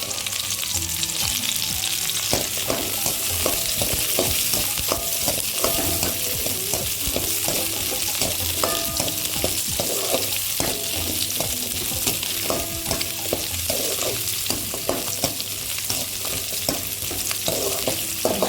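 Garlic sautés in hot oil in a pan for radish chutney, a dense, loud, continuous sizzle with a steady crackle and faint stirring taps beneath it.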